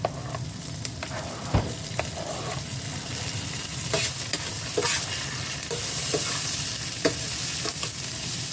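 Onion and garlic sautéing in a pan, a steady close sizzle with frequent clicks and scrapes from a spatula stirring, no voices over it.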